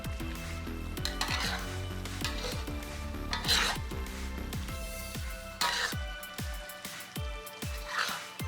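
Fried rice noodles with chicken and shrimp are stirred in a pan: repeated scraping and rasping strokes of a utensil, with light sizzling and occasional metallic clinks, close and rhythmic.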